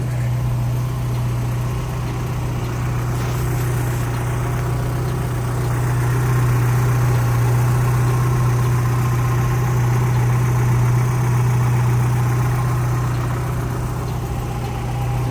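A car engine idles steadily nearby, a low continuous hum and rumble with no speech.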